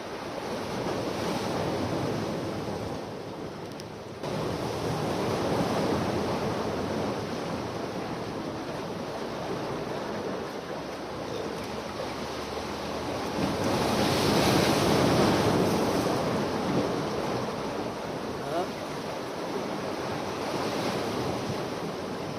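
Ocean waves surging and washing in at night at a dark fishing spot under moonlight, a steady broad roar with swells building and fading, mixed with wind buffeting the microphone.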